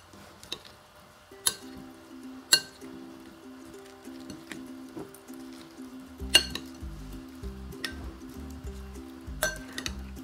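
Clinking and scraping of utensils against a bowl of shrimp salad with sesame, with a few sharp clinks and soft wet squishing as it is tossed, close by.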